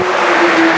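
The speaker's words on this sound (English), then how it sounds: "sorry, I'm right next to a busy road," A car rushes past on a busy countryside road, a loud, close whoosh of tyre and engine noise with a steady tonal hum, filling the entire brief moment.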